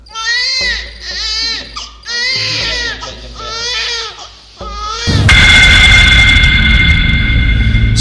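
A newborn baby cries in repeated wailing bursts with short breaths between them, loud and close. A loud broadband rushing noise, like a passing aircraft, then takes over and fills the rest of the clip.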